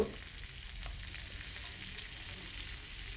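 Turmeric, ginger and cumin paste fries in a pan with a continuous, even sizzle that stays close and moderately quiet and has no talking over it.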